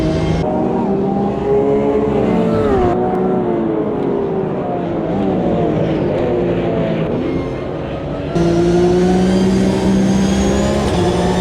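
Porsche Cup race car engine heard on board at the Long Beach street circuit, loud and continuous as it revs through the gears down a straight, pitch climbing and dropping with shifts.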